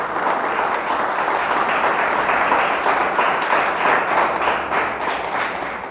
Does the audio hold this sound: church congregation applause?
yes